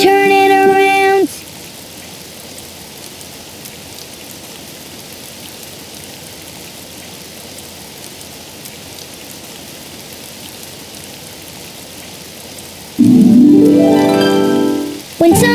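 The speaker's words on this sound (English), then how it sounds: "It's raining outside." Steady rain patters outside as a continuous soft hiss, with brief louder tonal sounds at the start and near the end.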